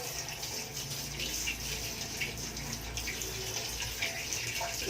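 Mangoes being washed under a running tap, a steady close gush of water splashing into a sink throughout, with no talking.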